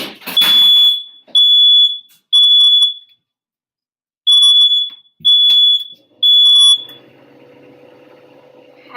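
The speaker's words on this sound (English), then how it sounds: "How did my fire alarm know that it was getting a little too hot in here?" A smoke alarm set off by cooking heat in a kitchen, shrieking in loud, piercing beeps in bursts with short gaps, then cutting out to near quiet.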